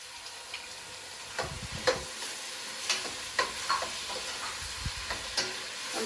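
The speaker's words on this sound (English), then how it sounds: "I'm going to stir that really well." Onions and tomatoes frying in a pan are stirred, giving a soft, even sizzle with scattered knocks and scrapes of the spoon at irregular intervals, fairly quiet and without talk.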